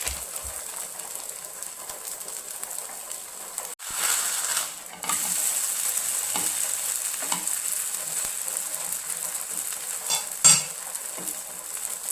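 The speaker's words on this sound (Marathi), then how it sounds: "आता हे थालीपीठ व्यवस्थित भाजून घ्यायचं आहे" Sabudana thalipeeth fries on a pan, giving a soft, steady sizzle with occasional scrapes and clinks of utensils, fairly quiet and close, with no speech.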